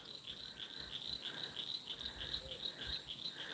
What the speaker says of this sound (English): The frogs are even coming out.